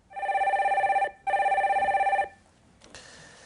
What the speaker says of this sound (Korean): 전화 연결 바로 해볼게요